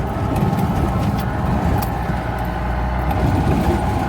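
A 4x4 vehicle's engine on a coastal drive, heard as a steady, loud, low rumble from inside the vehicle as it turns around, with no one talking.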